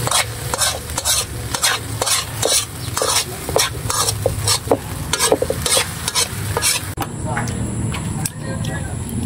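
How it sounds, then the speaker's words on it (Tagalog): Eggs with tinapa smoked fish are stirred in a frying pan, a steady run of scraping utensil strokes over continuous close sizzling, with a brief high tone near the end. "itlog na may tinapa. Haluin natin para mas sarap."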